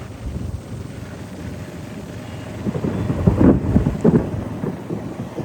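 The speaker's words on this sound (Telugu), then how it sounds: "ఉరుముతా ఉంది గాయస్" Thunder rolls over the stadium grounds at the Vontimitta Rama temple: a loud, continuous low rumble that swells midway, with a steady rain-like hiss beneath it and no voices.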